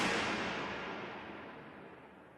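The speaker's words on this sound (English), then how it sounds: "I would implement a normal convolution reverb sound." A burst of broadband white noise through a convolution reverb that slowly fades away over a couple of seconds, with the treble dying first as it trails off into a reverberant tail.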